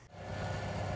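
A combine harvester's engine, wrapped in a piece of swather canvas, runs with a steady, close, low rumbling drone and no pauses.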